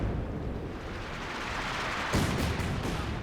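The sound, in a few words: light artillery barrage landing in Company of Heroes 2 video game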